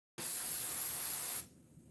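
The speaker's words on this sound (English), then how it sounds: "gonna spray contact cement through an airbrush like this" An airbrush sprays contact cement in a steady hiss lasting just over a second, starting abruptly and cutting off sharply, with no talking over it.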